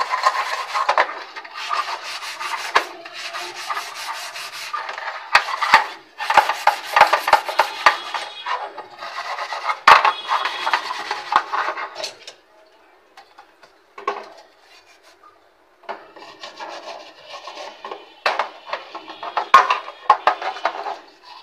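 Steel spoons are scrubbed with soda and washed, giving close, uneven bursts of rubbing and clinking that stop for a short pause and then start again.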